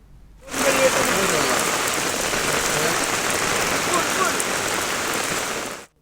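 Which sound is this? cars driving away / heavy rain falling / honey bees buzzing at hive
heavy rain falling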